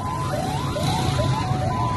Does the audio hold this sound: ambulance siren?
yes